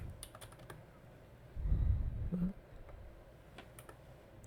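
Someone types a short word on a computer keyboard, with a few quiet key clicks close by and a brief low rumble partway through.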